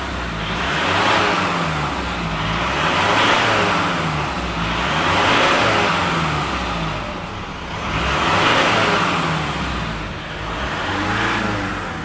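A Mitsubishi Pajero engine roars steadily, rising and falling in waves as it revs and accelerates at high speed, loud and close with no talking.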